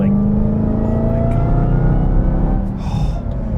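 A 2021 Dodge Charger SRT Hellcat Redeye sedan accelerates hard, its supercharged engine a loud, close, rising roar with a climbing whine that holds for several seconds before easing off.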